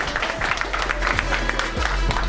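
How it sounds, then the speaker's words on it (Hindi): Dense clapping from a crowd fills an office celebration with continuous, close applause and cheering. "एक बार जोरदार तालियां हो जाए सभी की तरफ से।"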